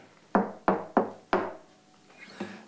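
Knuckles knock on a door in four sharp, close raps in an uneven rhythm, followed by a fainter fifth tap, with no talking.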